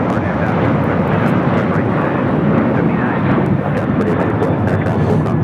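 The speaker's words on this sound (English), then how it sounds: "1374 taking off to Zihuatanejo on the 737-900ER" Alaska Airlines Boeing 737-900ER jet taking off at Los Angeles airport, a loud, steady broadband engine roar holding constant throughout with no pause.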